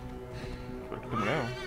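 A horse in the video game Assassin's Creed Origins gives a short, close neigh that rises into a quavering whinny near the end, over faint hoofbeats.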